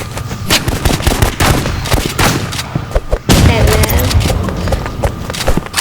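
Rapid bursts of video game gunfire in Rivals crackle loudly and continuously while a voice talks over the shooting.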